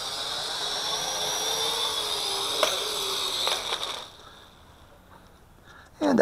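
A ZC Toys Z1 toy quadcopter drone buzzes with a high, steady whine of small propellers, then falls nearly silent after it touches down, followed by a brief noise at the very end.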